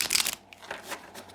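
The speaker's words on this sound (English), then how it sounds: "shuffle one more time." A deck of tarot cards being shuffled by hand, with quick riffling bursts and soft papery flutters repeating close up and no speech.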